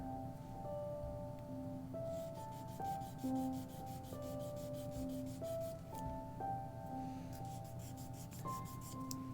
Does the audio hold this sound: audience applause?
no